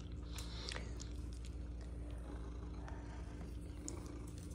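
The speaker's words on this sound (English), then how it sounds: "Mama, big purr machine." A big male cat purrs close up in a low, steady, continuous rumble that stays quiet throughout, with no other sounds over it.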